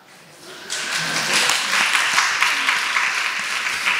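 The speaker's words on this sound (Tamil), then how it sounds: "அவங்களுக்கு ஒரு கைத்தட்டு கொடுங்க பார்ப்போம்" Audience applause at a Tamil Christian Sukkot gathering, swelling in after a quiet start into a steady clapping wash that holds to the end.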